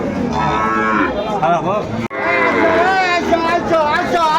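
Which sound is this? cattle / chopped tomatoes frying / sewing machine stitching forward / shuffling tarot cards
cattle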